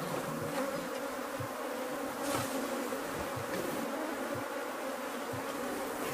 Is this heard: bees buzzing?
yes